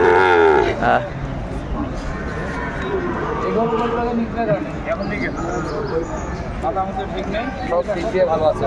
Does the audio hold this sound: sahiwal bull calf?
yes